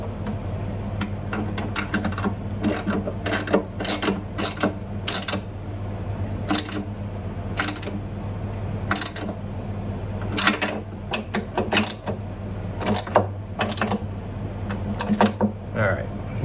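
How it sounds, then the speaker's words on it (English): Bolts are tightened on the neck of an acoustic guitar being built, heard as a series of sharp close clicks and ratcheting ticks in bursts over a low hum. "All right, so tighten the bolts down. I get them pretty dang snug."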